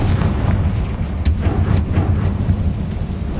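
Bombarda and Confringo spell blasts in Hogwarts Legacy, a dense, loud rumbling barrage of booms with sharp cracks layered over a continuous low roar, close and unbroken.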